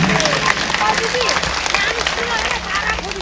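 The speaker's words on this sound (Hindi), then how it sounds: "सुंदर तालियां बजाएं" A crowd at a Shrimad Bhagwat katha religious discourse in an ashram applauds: loud, continuous clapping from many people, with a voice speaking over it throughout.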